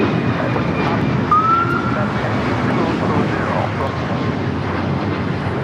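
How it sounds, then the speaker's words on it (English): An Alaska Airlines Boeing 737 MAX 9 in Seattle Kraken livery takes off from runway 25R at Los Angeles airport, a steady broad jet roar with wind noise, constant and moderately loud throughout. "1418 taking off to Guadalajara on the MAX 9 Seattle Kraken livery."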